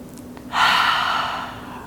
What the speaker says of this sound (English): Taking one more full breath.